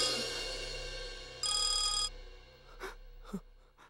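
A telephone rings in a single bright electronic burst of about half a second, loud and close, followed by quiet breathing-like sounds and a soft gasp with no speech.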